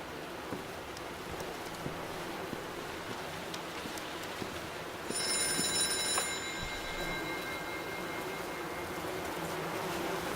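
A telephone ringing in the video game White Night: a bright, bell-like ring that bursts in midway over a low, hissing ambience with faint ticking, then trails off.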